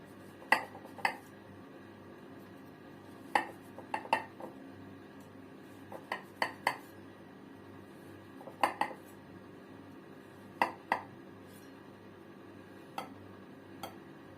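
A knife clinks and taps against a plate while a freshly baked, still-warm orange cake is cut and a piece lifted out; sharp metallic clicks come in small irregular clusters over quiet background, with no talking.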